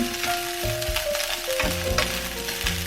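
Cooked rice with egg and oil frying in a home wok for soy sauce fried rice, a steady close crackling sizzle broken by scraping stir strokes, with a faint background hum.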